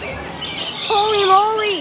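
Loud birds squawk and chirp close by, one shrill call sliding into a warbling, wavering cry, with a person speaking over them.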